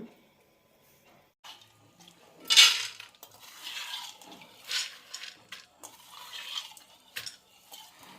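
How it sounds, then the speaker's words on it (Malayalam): Water drains from a bowl of soaked moong beans through a strainer, with a short splashy pour followed by scattered trickles and soft clinks of the container. "ഇതിൽ വെള്ളം ഊറ്റിയെടുക്കാം"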